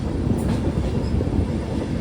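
The Prasanthi Express rumbles along the rails between Gooty and Tadipatri, a loud, continuous low roar of the carriages with no talk over it.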